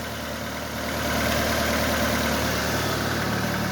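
A 1997 Honda Accord engine idles steadily with a smooth, even hum and slight vibration, close and loud, with no talking over it.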